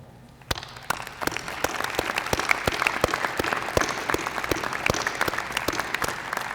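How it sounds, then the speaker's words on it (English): A crowd at a spring senior breakfast bursts into applause that stays steady and dense for several seconds, no voices over it. "give you a round of applause"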